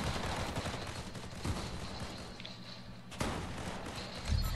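Rapid Fortnite gunfire rattles in bursts of repeated shots, fairly faint and steady, with a short pause and then more firing and a heavier thump at the end.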